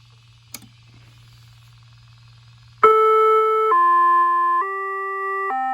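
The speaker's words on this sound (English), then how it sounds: "Let's do chimes first." A home-built dual tone siren sounds chime tones, a series of loud stepped two-note pitches that change every second or so, starting abruptly after a faint hum and a small click.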